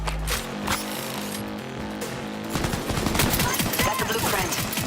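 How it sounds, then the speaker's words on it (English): SMG gunfire in Cyberpunk 2077 crackles in loud, rapid bursts that sound slow for the weapon type at first and then speed up into a dense rattle over game music, with a short quiet lead-in. "for an SMG, this gun is real slow to shoot"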